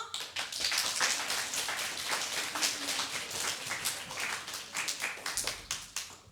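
An audience at a children's theatre festival claps in unison, a steady rhythmic run of sharp hand claps near the listener, with applause filling the gaps.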